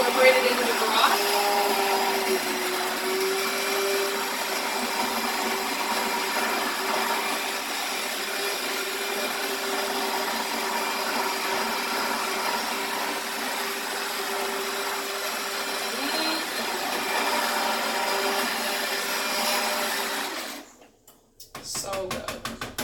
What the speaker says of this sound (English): Blend the potatoes until they're incorporated into the broth.